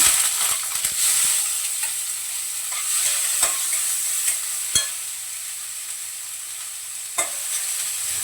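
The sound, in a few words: onion and green chillies sautéing in oil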